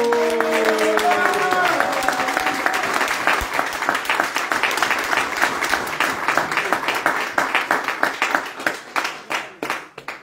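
Church congregation cheering and applauding together, a dense wash of clapping with shouted voices over it early on, the applause thinning into scattered claps toward the end.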